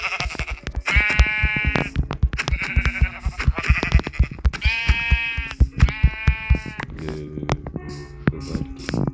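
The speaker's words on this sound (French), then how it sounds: "Oh, 3 moutons blancs." Sheep bleat in Minecraft, several loud, wavering baas in quick succession, close and clear over a steady low rhythmic thumping.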